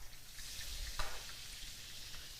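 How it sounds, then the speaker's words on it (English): Butter sizzles steadily in a pan, ready for cooking shrimp, with a soft continuous frying hiss and one brief louder crackle midway, and no talking. "we already have the butter going for our shrimp"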